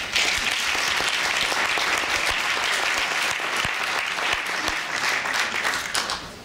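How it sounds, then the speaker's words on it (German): Audience applause fills a room at a winter fan gathering's fireside talk: loud, dense, steady clapping that runs the whole time and tapers slightly at the end. "Vielen Dank auch dafür."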